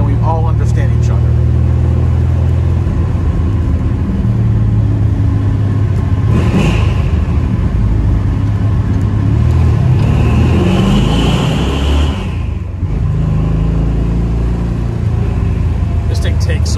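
Engine of a 1978 Chevrolet Corvette with a manual gearbox, pulling hard as the car accelerates on the road: a steady, loud low rumble that swells in the middle, then dips briefly as a gear is shifted.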